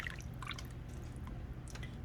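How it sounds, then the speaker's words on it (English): Sour cream pours into a pot of chicken soup with soft wet drips and squishy splashes over a low steady kitchen hum. "I'm pouring in the sour cream here."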